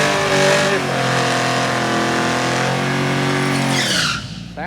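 A V8 car with an LS3 intake revs hard at a drag strip test-and-tune, the engine roaring loud and sustained near the microphone for several seconds before the pitch drops off at the end.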